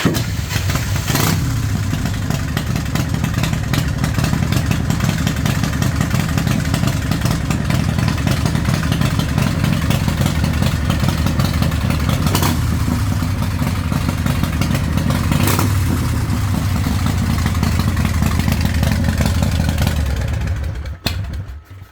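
An old carbureted motorcycle runs with a loud, continuous clattering engine note, held steady at idle with occasional sharp bursts, cutting off near the end; no talking.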